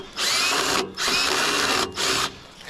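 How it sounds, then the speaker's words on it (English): A power drill with a bit backs out slightly rusted screws on a 1995-1999 Chevy Tahoe grille trim, three close, loud bursts of high motor whine separated by brief pauses, with no talking. "I got a power drill here with a bit. I'm gonna take these off."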